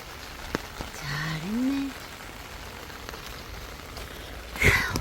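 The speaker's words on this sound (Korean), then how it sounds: "오늘 금요일 퇴근하는데 비가 억수 쏟아집니다." Heavy rain pours steadily outdoors on a Friday evening commute, a dense continuous wash of falling water with a short tonal sound early on and a louder burst near the end.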